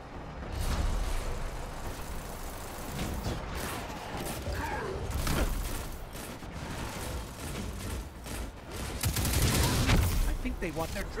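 Gunfire and explosions in the Destiny 2 game, with rapid bursts of shots and heavy blasts booming repeatedly over dense combat noise, with players talking.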